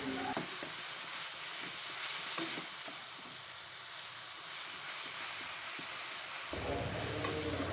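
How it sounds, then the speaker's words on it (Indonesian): Water spinach (kangkung) stir-fries in a pan, a steady dense sizzle with faint scraping stirs throughout, close and continuous with no voices. "Kemudian ini diaduk-aduk kembali hingga semuanya tercampur rata."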